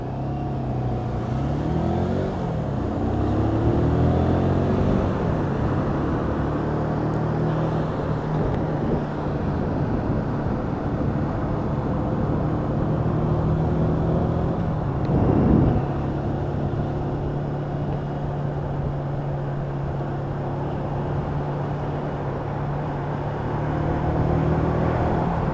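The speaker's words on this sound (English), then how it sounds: "That little motor just chugging away below me, doing what it needs to do." A Lexmoto Michigan motorcycle's small engine chugs steadily while being ridden, a continuous low drone with slight rises and a brief louder bump midway, heard alone without talk.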